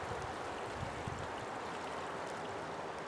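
A seasonal creek flows steadily nearby, a continuous broadband rush and gurgle of water with no pauses or voices.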